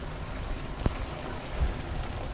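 Steady patter of rain on surfaces with trickling water into a rainwater collection tank, a couple of sharper drips standing out.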